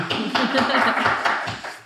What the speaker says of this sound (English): Round of applause for Poppy.